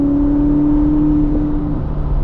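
Ferrari SF90 Spider hybrid pulling away from the curb on Cup 2 tires with electric front motors, a loud close-up whine and rising hum from inside the car, steady and then fading slightly.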